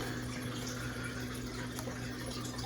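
Fluid acrylic paint pouring onto a canvas for a deconstructed bloom, heard as a very faint, steady liquid trickle under a low electrical hum, with no talking.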